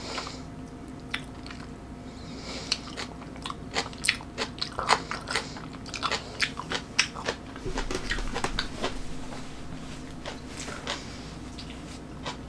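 Crunchy biting and chewing of well-fermented napa cabbage kimchi eaten with fermented skate and boiled pork, close and crisp, with repeated sharp crunches in an irregular rhythm and no talking.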